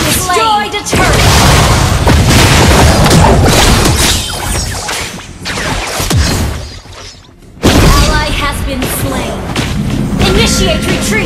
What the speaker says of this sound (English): Enemy team destroyed a turret